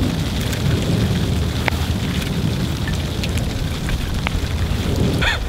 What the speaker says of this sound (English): because it is raining now